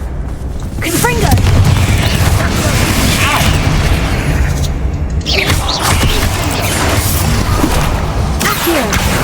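Confringo fire spell blasts in Hogwarts Legacy, booming bursts and crackling impacts over a dense, loud game soundscape, with a voice casting spells amid the noise.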